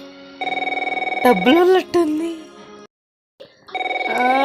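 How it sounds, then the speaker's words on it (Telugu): A telephone rings with a repeating electronic trill, broken up by a voice and a short pause, then ringing resumes, loud and close. "ఫోన్ వస్తుంది"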